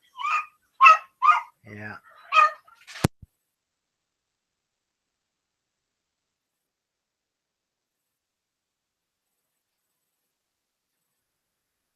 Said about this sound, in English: my dogs are all barking